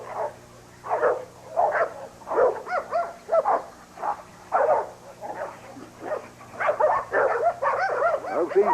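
A working dog in a home yard barks in bold, repeated bursts during bite training with a sleeve, roughly a dozen loud barks close by at an uneven, excited rhythm, with no talking over them.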